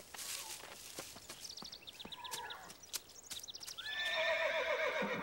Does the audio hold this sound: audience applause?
no